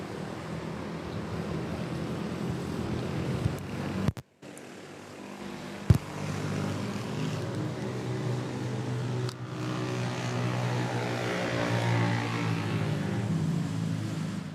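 Airliner at Manila Airport, a steady broadband jet roar that holds for about fourteen seconds with one brief dropout partway through, no talk over it.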